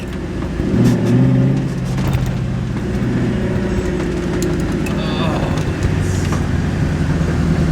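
A 2001 Mustang GT racecar engine runs steadily while driving, a loud low rumble throughout with a brief swell near the start and slight rises later, under talking voices.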